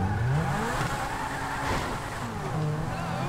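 A Lamborghini in GTA V drives with a steady, loud engine drone, the pitch sweeping upward through gear changes, with a tire screech or two and voices talking over it.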